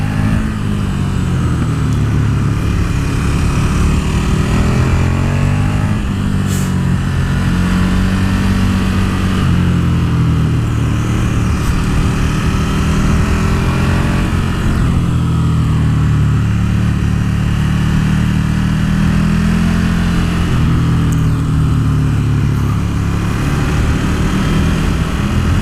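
A KTM 1290 Super Duke R motorcycle accelerates hard through the gears, its loud engine note rising and dropping with each shift over a constant wind roar.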